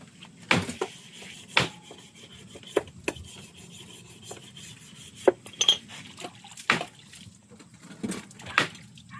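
Scrubbing and rinsing dishes washed with Joy dish soap at a camp, rough rubbing strokes and clinks of pots against a steady wash of running water, with no talk.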